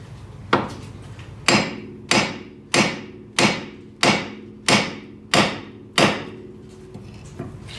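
Hammer blows on the tapered ball joint of a Honda Civic's front lower control arm: eight sharp, ringing metal strikes at a steady, roughly even pace, loud and close, each decaying quickly.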